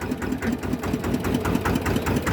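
A Thai tuk-tuk motor rickshaw engine runs loudly and steadily close by with a rapid, regular chugging pulse and no talk.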